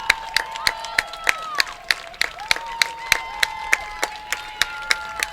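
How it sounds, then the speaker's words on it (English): Rugby crowd applauding as starters leave the field during a women's U20 match between USA and Canada, a broad wash of clapping and cheering heard over regular sharp thuds and whistle-like tonal lines. "much to the delight of the fans as they give a round of applause and appreciation for the starters who are heading off"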